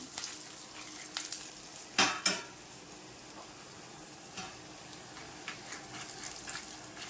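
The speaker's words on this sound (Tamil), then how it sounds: "நல்லா சுண்டை வத்தலை வதக்கிடுங்க." Dried turkey berries (sundakkai vathal) fry in oil for a tamarind kuzhambu, a quiet crackling sizzle with a couple of loud spatters around the two-second mark and a few faint scrapes of a spoon afterwards.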